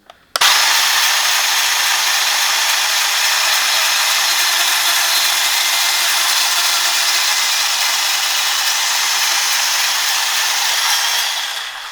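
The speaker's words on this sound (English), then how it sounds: "Time to saw these bad boys." A saw cuts through a throttle tube bar at a marked 15 mm point, giving a loud, close, continuous rasping drone that holds steady for about eleven seconds before easing off.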